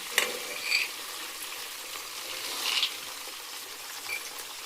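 Green chillies and peanuts fry in oil in a pan, a steady soft sizzle running throughout with a few brief louder stirs or crackles, close and fairly quiet, no talking.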